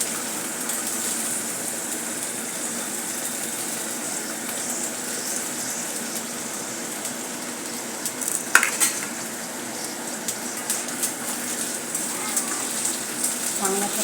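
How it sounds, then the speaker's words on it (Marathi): Beans and peas frying in a pan, a steady close sizzle running throughout with occasional stirring clinks and a brief sharper scrape midway. "चांगल्या प्रकारे आपण याला फ्राय करून घेऊया."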